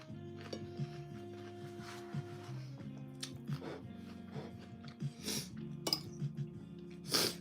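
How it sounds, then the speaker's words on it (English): Eggs stirred in a pan on medium heat, a utensil clinking and tapping against the pan in irregular bursts over a steady background hum. "I just like stir them until they're slowly cooking"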